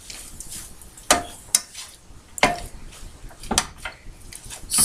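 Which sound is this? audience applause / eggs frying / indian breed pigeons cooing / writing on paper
eggs frying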